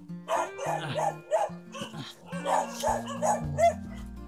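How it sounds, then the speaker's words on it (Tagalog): Several dogs bark and yip near a house entrance, with a flurry of overlapping barks and whimpers. A low voice speaks faintly under the barking. "Ang daming aso."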